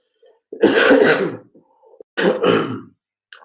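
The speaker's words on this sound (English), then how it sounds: "I do apologize for the coughing, bit of a flu this side." Two bursts of harsh, throaty coughing from a nearby person with flu, a long rough fit followed by a shorter one, with quiet pauses between.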